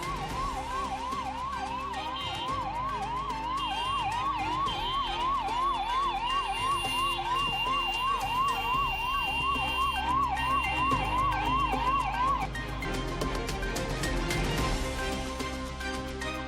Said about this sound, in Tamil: போக்குவரத்து நெரிசலில் சிக்கி திணறிய ஆம்புலன்ஸ்.